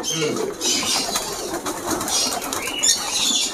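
Homing pigeons flap their wings at a bird farm in Madurai, with repeated bursts of close wing clatter and flutter, soft cooing, and someone speaking Tamil throughout.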